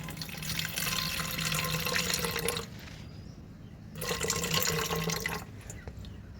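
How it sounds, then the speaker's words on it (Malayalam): Ash fertilizer solution is poured into a two-litre sprayer in two steady gushes separated by a short pause, each one close and splashy against a quiet background. "അപ്പം ഇതിലേക്ക് നമ്മൾ നമ്മൾ എടുത്ത് വെച്ചിരിക്കുന്ന ഈ ലായിനി ഒഴിച്ചു കൊടുക്കുകയാണ്"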